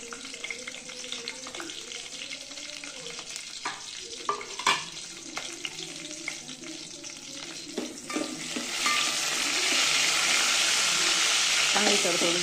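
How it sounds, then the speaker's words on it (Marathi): Green chilies drop into hot oil in a pot on a village wood-fired stove for kadhi. A quieter stretch with faint voice-like murmur and small clinks gives way to a sudden loud, sustained sizzle. "आता सगळ्यात आधी मी मिरच्या टाकून घेते त्याच्यात."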